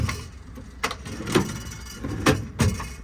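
Aluminum drawers on a mechanic service truck body slide open and shut, giving a few scattered metallic rolling thumps and clacks, close by, with a quiet background between.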